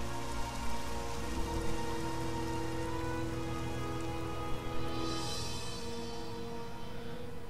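Rain in the video game DC Universe Online during a Christmas event, a steady hiss of falling rain with soft scattered drops over a sustained musical drone, no talk.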